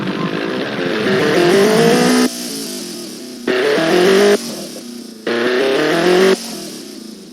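A turbocharged hot hatch engine in the video game BeamNG.drive revs hard in repeated bursts, rising in pitch then cutting off abruptly, loud and close with no talking.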